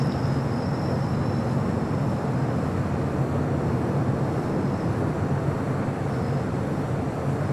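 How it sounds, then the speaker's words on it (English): A Japan Airlines Boeing 787-8 Dreamliner bound for Tokyo Narita taxis on taxiway Bravo at LAX, its engines giving a constant broadband roar with a low rumble, steady and unbroken throughout, without voices. "Japan Airlines Flight 61 heading to Tokyo Narita, 787-8 Dreamliner. They're on taxiway Bravo"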